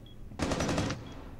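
Rapid automatic gunfire shooting through a wall in the video game Counter-Strike, a half-second burst of several quick shots at moderate level over quiet game ambience, with no talk.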